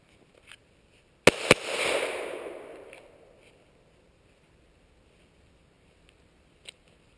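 Glock 17 pistol fired outdoors: two sharp, loud shots in quick succession followed by a long fading echo, then a couple of faint distant pops, with no talking.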